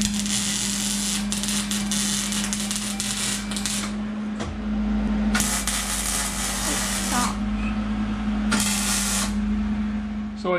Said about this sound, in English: While we're here with the welder, we're going to go ahead and hit some of the welds that they did